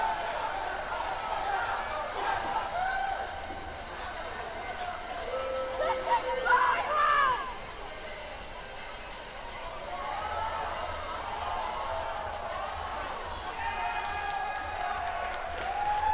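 Crowd noise from a WWE 2K18 wrestling arena builds into a cheer as a women's NXT match gets under way, a steady roar with a brief swell of whoops midway, mixed with game sounds.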